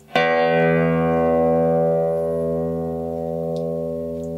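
A single electric guitar note through a Langcaster pickup is struck and rings on, sustaining steadily with rich overtones and barely fading across the whole stretch.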